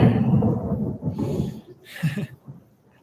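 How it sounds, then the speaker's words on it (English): Thunder rolls in a low, rough rumble, swelling twice and then fading out over a few seconds. "Thunder."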